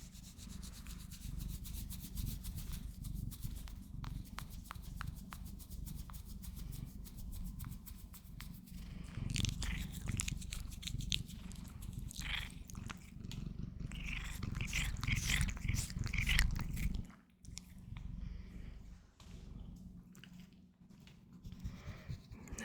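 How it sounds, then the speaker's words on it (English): A cat's ears twitch and rub against a headset microphone, giving close, scratchy rustles and scrapes in uneven bursts over a low rumble, with a few brief pauses. "That's your ears twitching on my mic"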